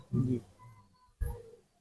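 A kept fancier's pigeon coos twice, low and throaty, in two short close bursts separated by a pause.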